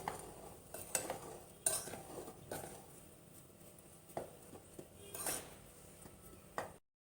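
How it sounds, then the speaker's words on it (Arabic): Dry ingredients being stirred together in a bowl with a spoon, with sugar added, for crunchy Egyptian qaraqeesh biscuits: a series of soft scraping and clinking strokes, close and moderately quiet, with no talking. "هقلب كده ايه المكونات اللي جافة مع بعض كده بالشكل ده"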